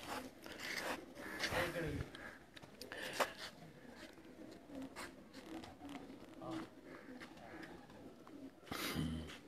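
Pigeons coo softly in short, low calls among other rustling movement, fairly close, with people talking intermittently in the background.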